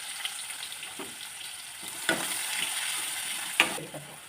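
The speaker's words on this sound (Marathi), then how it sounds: "कांदा छानपैकी भाजला आहे" Onion frying in hot oil with cumin, mustard seeds and curry leaves in a pan, sizzling steadily up close with a few sharp spatula scrapes and taps, no talking.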